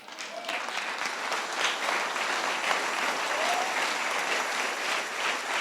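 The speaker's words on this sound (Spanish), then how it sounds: "Dele un aplauso a Dios." Steady applause from a church congregation during a Spanish-language sermon, a dense even wash of clapping that holds at one level from start to end, with a few faint voices scattered through it.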